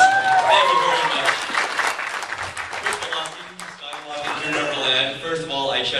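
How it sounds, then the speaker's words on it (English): Convention audience applauding a Star Wars Rebels panel at a press conference, steady clapping and crowd noise throughout with people talking over it. "Guys, let's make a big round of applause."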